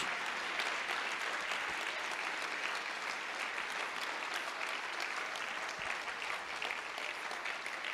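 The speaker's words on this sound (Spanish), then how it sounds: "Dale un aplauso a Él." A church congregation applauds during a sermon, producing a steady, even wash of clapping that holds at an unchanging level throughout.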